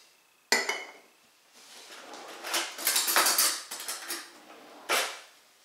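A spoon scoops orange Jello into a crystal goblet, giving a sharp clink at the start, then a run of soft scraping, tapping and clinking against the glass, with one more clear clink near the end, close and alone.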